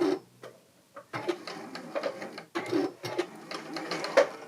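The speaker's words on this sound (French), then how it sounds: "Donc je vais faire cette piqûre sur cette découpe et sur l'autre découpe." A sewing machine stitches the pocket bag seams of a skirt, running in close, steady bursts of rapid needle chatter separated by short pauses.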